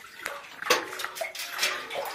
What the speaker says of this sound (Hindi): अभी हम कुएं में पानी डालेंगे